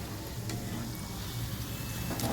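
Pattanam pakoda deep-frying in oil over a low flame makes a dense, continuous bubbling sizzle, close and steady throughout with no voices.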